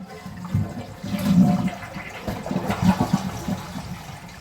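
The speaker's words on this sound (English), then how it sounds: "We're going to reach up and flush the toilet." A toilet flushes with its water supply valve shut off, producing a short rushing, gurgling drain that fades without the usual hiss of the tank refilling.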